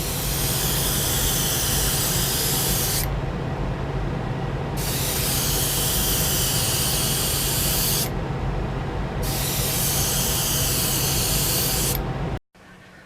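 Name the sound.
airbrush spraying a coat of gold paint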